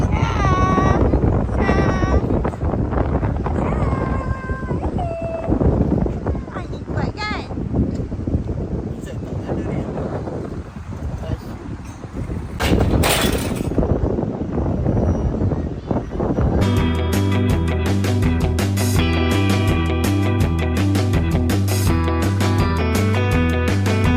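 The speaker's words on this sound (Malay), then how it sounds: "Angin kencang memang tak bawa bincang lah." Strong wind buffets a microphone at a seaside campsite, a loud, continuous roar that surges and eases before giving way to a steady, rhythmic mechanical drone.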